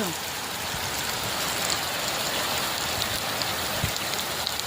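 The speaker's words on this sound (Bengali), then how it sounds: "প্রচণ্ড বৃষ্টি হচ্ছে।" Heavy morning rain pouring down outdoors, a dense, even hiss of drops on surfaces that holds steady throughout, with a faint engine rumble in the background.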